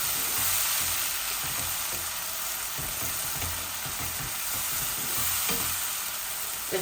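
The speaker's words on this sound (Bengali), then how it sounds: "একসাথে ভাজা ভাজা হয়ে যাক" Spices frying and sizzling in a hot pan with a splash of hot water added, a steady close crackle with soft stirring scrapes throughout, no voices, while cooking hilsa fish curry.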